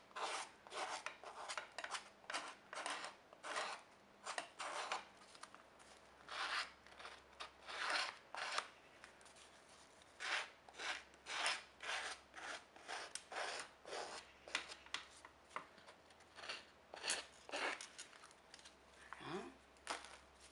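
Edges of a tropical straw-hut craft model being filed down by rubbing, a dry rasping scrape repeated in steady bursts of strokes, close and loud throughout with no talk.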